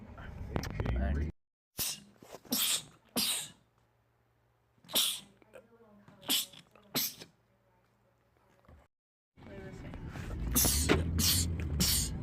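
Repeated sneezes from a man in a series of sharp, loud bursts, several close together, separated by quiet gaps and followed by a final cluster, with other voices speaking briefly between them.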